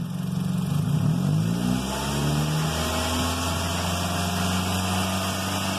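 A Nissan Sentra with a fault that keeps it from accelerating, its engine revving as the throttle is pressed gradually, pitch climbing and then holding at a steady raised drone, close by.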